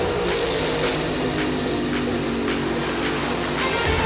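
Drag racing cars of Don Garlits and Rob Bruins staged side by side at Indianapolis Raceway Park in 1978, a loud sustained engine roar filling the track with no voices.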